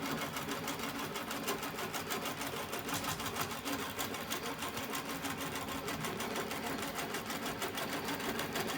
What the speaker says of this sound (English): this is a quick little video of me stitching away